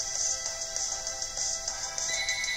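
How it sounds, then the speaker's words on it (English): A telephone ringtone chirps in a repeating electronic pattern behind Pokemon Omega Ruby Alpha Sapphire game audio, moderately loud and steady through the short stretch, with no talking over it. "Ah, the phone."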